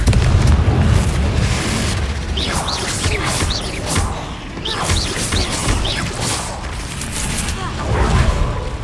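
Repeated explosive blasts from the Confringo spell in Hogwarts Legacy land as loud booms and crashes, with whooshing bursts over a continuous dense rumble and a voice in the background.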